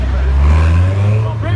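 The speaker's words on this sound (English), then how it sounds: "the van's coming, boys. The van's coming." A van's engine roars and revs loudly as it drives past at a car meet, a low heavy rumble under excited shouting voices.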